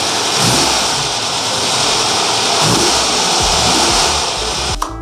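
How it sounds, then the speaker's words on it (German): An old air-cooled VW engine runs after a long standstill, a loud, steady rough mechanical drone close by that continues throughout before a sharp click near the end. "wenn man so ein Auto in dem Baujahr nach langer Standzeit startet, sollte man nicht dahinter stehen"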